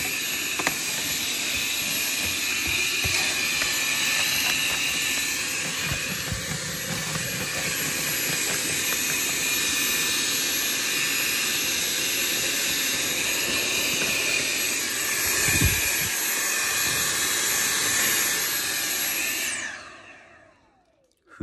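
A vacuum cleaner sucks up debris from an old fireplace, giving a loud, steady high-pitched whine and hiss that runs unbroken for about twenty seconds, with a brief low thump near the end before it cuts off.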